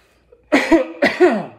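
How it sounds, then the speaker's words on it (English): Two close, sharp coughs in quick succession, loud and nearby, with silence before them. "if I walk in the room and I notice he's coughing"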